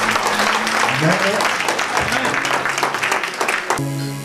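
A church congregation at a birthday celebration for a sister named Annie, cheering and acclaiming the Lord: loud, dense crowd shouts and clapping that swell together, then stop abruptly near the end.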